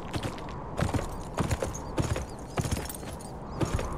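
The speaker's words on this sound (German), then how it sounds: "Im Galopp." A horse gallops in the video game Beyond: Two Souls, its hooves pounding in a steady repeating rhythm of close, loud thuds over a continuous rustling background, with no voices.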